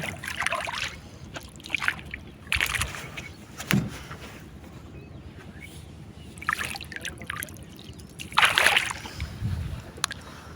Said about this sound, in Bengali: আমার ছোট ভাই নৌকা এখন চালাচ্ছে।